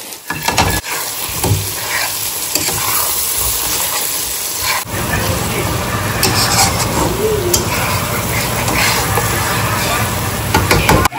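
Fish slid into hot oil with softened onion and tomato set off a loud, steady frying sizzle with stirring scrapes, the crackle swelling after the fish goes in and continuing close and constant throughout.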